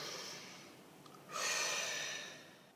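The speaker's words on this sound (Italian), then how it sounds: "facciamo un bel respiro profondo" A slow, deep breath drawn in and let out close to the mic, a soft airy inhale followed by a longer, louder exhale with nothing else around it.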